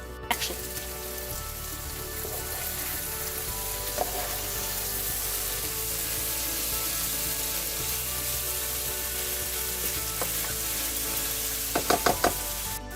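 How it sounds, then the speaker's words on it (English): Pork and potatoes fry uncovered in a pan, a constant loud sizzle running throughout with occasional stirring knocks and a short burst of scraping tosses near the end. "continue cooking it uncovered till the pork heats up really well and starts drying up just a little bit"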